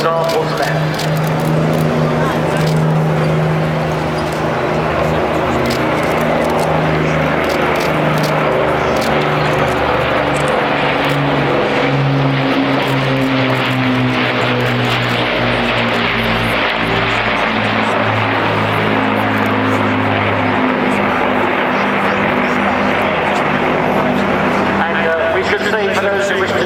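Two Avro Lancaster bombers, the RAF's example leading and a Canadian one behind, fly over a seaside airshow at Clacton in 2014, their piston engines producing a loud, sustained droning roar that swells and shifts throughout, with talk audible over it.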